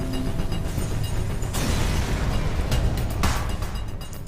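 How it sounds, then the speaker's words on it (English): Mini-beam weapon fires in the space game FTL, with sustained crackling bursts and booming blasts that swell twice sharply amid continuous loud noise. "And fire our mini-beam."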